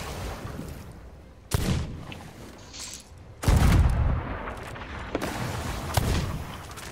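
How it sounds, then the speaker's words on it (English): Skeleton enemies fire at a ship during Sea of Thieves gameplay, heard as several sharp gunshot-like blasts spaced a second or two apart over a constant sea and ambient rumble. "Skellies, you better not be shooting my ship here."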